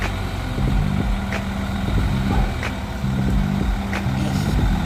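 A truck engine runs close by during a hoarder house renovation drywall delivery, a steady loud rumble with some clanks and thumps over it.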